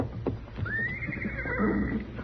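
Horse neighing as a sound effect in a Gunsmoke radio drama, a single rising whinny that holds a high wavering pitch, heard mid-distance over a faint shuffling clip-clop of hooves.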